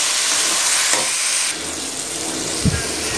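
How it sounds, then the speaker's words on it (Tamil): Chopped tomatoes and broad beans sauté in a hot pan for a Tamil avarakkai poriyal, giving a steady close sizzle and hiss with a light scrape of stirring near the end. "இப்போ தக்காளி சேர்த்துக்கலாம். நல்லா மிக்ஸ் பண்ணிடலாம். 5 நிமிஷம் நல்லா இது வதங்கி வரட்டும்."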